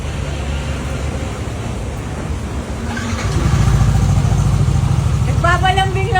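A Yamaha NMAX scooter with newly fitted TRC parts sputters for a few seconds, then its engine catches and settles into a steady, fairly loud idle close by.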